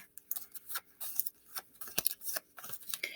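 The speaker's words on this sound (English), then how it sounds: "I'm going to put them together and I'm going to shuffle them" Playing cards are shuffled in quick bursts of crisp snapping and riffling, close by and fairly quiet, with no talking.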